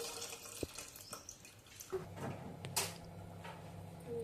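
Water poured into ground horse gram paste with tamarind in a Telugu home kitchen, heard as faint splashing and dripping with a few knocks and clinks, no talking.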